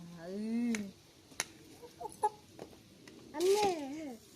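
A chicken clucks close by in two drawn-out calls, one near the start and one near the end, with light pecking taps and small noises in between.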